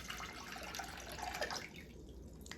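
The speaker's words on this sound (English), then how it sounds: "So 4 cups of water I'm pouring right into my pan here." Four cups of water pour into a cooking pan for a hot and spicy soup, a steady splashing stream that tapers off after about a second and a half, leaving a faint drip.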